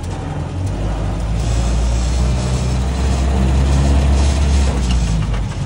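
A Land Rover Series IIA driving in second gear in four-wheel-drive low range, its engine a steady, loud low-pitched drone with rumbling road and body noise that swells slightly midway, no voices.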